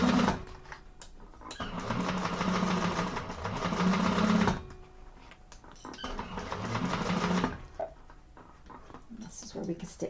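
A sewing machine stitches the bottom seam of a hobo bag in two sustained runs separated by a pause, with a hushed voice talking near the machine through parts of it.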